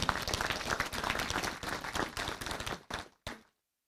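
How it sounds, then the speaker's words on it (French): Audience at a mayor's New Year ceremony bursts into dense, sustained applause that fills the room, then thins to a few last claps and stops abruptly. "je crois que vous pouvez vous applaudir"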